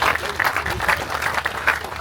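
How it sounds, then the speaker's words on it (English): A crowd claps warmly for a cooking-over-fire demonstration at the St Ives Food Festival, even, dense applause filling the whole stretch with faint background voices. "Big round of applause please."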